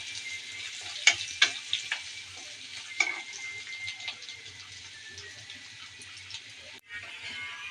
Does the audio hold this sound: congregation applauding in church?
no